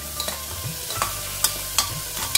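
Vegetables stirred with biryani masala, turmeric and red chilli in hot oil: a spoon scrapes and knocks against the pan several times over a continuous soft sizzle, close up.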